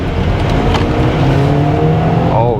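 A BMW X3 M40i in sport mode under full throttle, engine note rising steadily as it accelerates hard, loud and continuous from inside the cabin with a climbing harmonic whine near the end.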